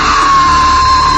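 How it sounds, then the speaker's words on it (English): A person lets out one loud, sustained scream in a thriller film scene involving a police officer and a killer, a single unbroken cry lasting about a second with no other voices. "Go ahead and scream"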